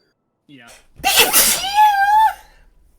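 A single loud, close human sneeze with a sharp intake and drawn-out burst, with a brief murmur just before it.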